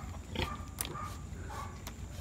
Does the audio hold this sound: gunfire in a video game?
no